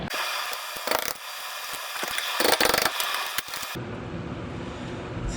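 Ratchet works a brake caliper bolt on a Dodge Grand Caravan, close metallic clicking and grinding in short bursts over a broadband rushing hiss that drops away near the end; no talk.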